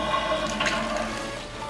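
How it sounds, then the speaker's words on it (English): A sump pump pushes water through a DIY aquarium water change system, producing a steady, continuous rushing and gurgling flow at close range with no talk. "So it starts to pump the water in"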